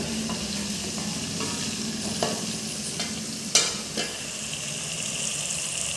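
Chicken stir-fried in a karahi, a continuous close sizzle broken by several sharp scrapes and knocks of a spatula against the pan.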